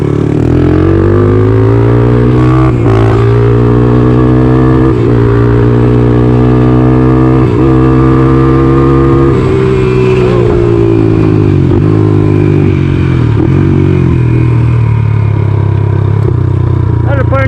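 A Honda ATC 200X three-wheeler's engine revs loudly and close throughout, a continuous throaty drone whose pitch rises and falls as the throttle is worked, with clattering bumps along the way.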